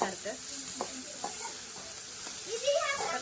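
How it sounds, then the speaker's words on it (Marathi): Chopped green chilli, ginger, ajwain and plenty of garlic fry in a pan for vada pav, a close, steady sizzle with stirring scrapes, and a voice briefly comes in near the end. "बारीक केलेलं हिरवी मिरची आलं थोडंसं ओवा आणि अद्रक आहे भरपूर असं लसूण तर हे सुद्धा फ्राय"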